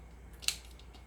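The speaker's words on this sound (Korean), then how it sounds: "가위로 이렇게 좀 듬성듬성 이렇게 썰어주세요" Scissors make a single quick snip through dried shredded squid while preparing a seasoned squid strip side dish, faint and close in an otherwise quiet kitchen.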